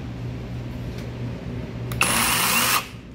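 A battery-operated 20V mini chainsaw with a 250mm bar whirs briefly at close range, a short loud burst of under a second that stops abruptly, following a quieter stretch of background hum.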